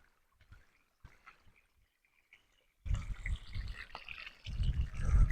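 Cold mountain stream water flows. After a few faint, near-silent moments, a loud, continuous rushing and gurgling starts up close by.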